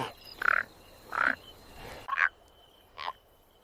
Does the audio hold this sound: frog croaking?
yes